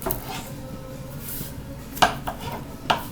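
A knife cutting crispy-skinned baked potatoes in half for homemade gnocchi, two sharp clicks of the blade striking a board against quiet kitchen background noise.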